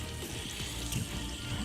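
Water from a hose splashing and running inside a Sea-Doo Spark personal watercraft being washed out with a brush, a continuous close gushing and trickling sound.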